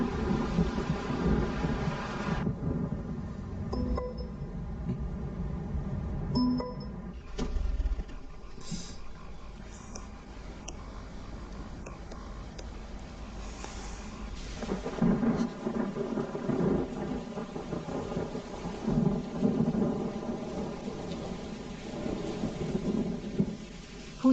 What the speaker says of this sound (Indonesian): Hujan deras sekali